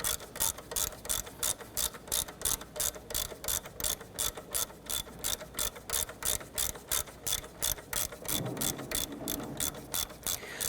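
A hand ratchet spins out a 12mm bolt on the 2.2L four-cylinder engine of a 1992–1996 Toyota Camry during a water pump replacement, giving a fast, even run of sharp clicks close up with a brief pause near the end.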